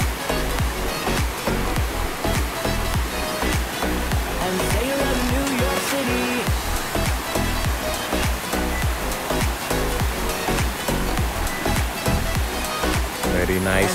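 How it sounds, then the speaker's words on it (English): Natural waterfall at Ulu Licin in Perak, Malaysia, a steady loud rushing roar of falling water filling the whole stretch without pause. "waterfall. The place called Ulu Licin in the Malaysia Perak stage."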